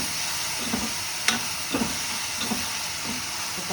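Tomatoes sautéing in a pan for an oil-fried brinjal dish, a steady soft sizzle with a few light stirring scrapes spaced through it, close and unaccompanied by talk.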